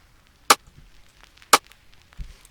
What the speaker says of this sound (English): Moving on to the next sound, which is this snare sound.